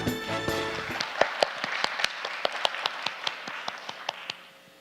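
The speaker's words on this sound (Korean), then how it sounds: "박사님께 큰 박수 부탁드립니다." At a lecture during a cultural festival, an audience gives a round of applause. Sharp, scattered handclaps ring out at a moderate level and fade away as a short strain of music ends at the start.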